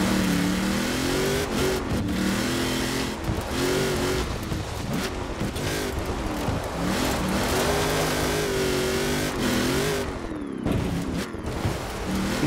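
Hoonigan car in Forza Horizon 4 accelerating hard, engine revving up and shifting through gears in repeated rising sweeps, loud and continuous for the whole stretch with no talking.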